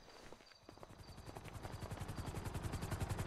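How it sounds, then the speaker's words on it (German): Helicopter in the video game GTA roleplay, sounding faulty: a rapid, regular rotor thumping that grows steadily louder and nearer over a few seconds, with no talk. "Der Helikopter klingt so ein bisschen kaputt."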